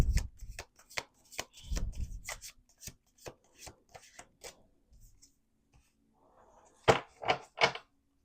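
A deck of cards being riffled and shuffled in a steady run of crisp, rapid flutters, with a louder burst of shuffling near the end.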